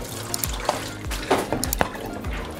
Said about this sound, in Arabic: دابا اول حاجة غناخد هاد البطاطا اللي ديجا قطعتها وخليتها في الماء، غنصفيها من الماء